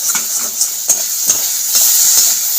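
Brinjal slices frying in oil with neem leaves for a traditional Bengali dish: a steady sizzling hiss broken by several sharp scrapes and taps of stirring.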